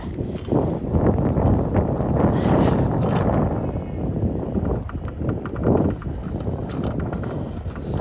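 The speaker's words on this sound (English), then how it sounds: "It's windy AF right now." Steady, blustery wind roars across the microphone outdoors, broadband and continuous with gusts swelling and easing throughout.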